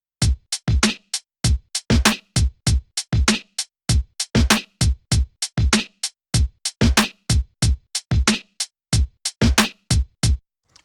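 Logic Pro step sequencer's default drum pattern with every step at equal velocity, punchy kicks, snares and hi-hats in a steady, mechanical, evenly accented loop, loud and dry with no talking.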